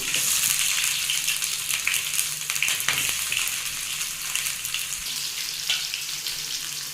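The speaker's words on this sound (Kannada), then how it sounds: "ನೋಡಿ ಇವಾಗ ಈರುಳ್ಳಿ ಕೂಡ ಸ್ವಲ್ಪ ಫ್ರೈ ಆಗಿದೆ" Chunky-cut onions frying in a pan with curry leaves, a steady loud sizzle with broadband crackle throughout and a few brief stirring clicks, no voices.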